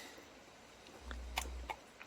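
A dog smacks and chews on egg at close range, a few soft wet chomps and clicks over a low thump, faint and brief in a quiet room.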